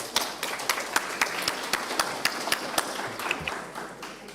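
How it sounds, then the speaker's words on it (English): Scattered clapping from a modest crowd at a meditation conference in Bhutan, applauding a panel, with sharp individual claps standing out over a soft wash of applause that thins toward the end. "a big round of applause for this panel"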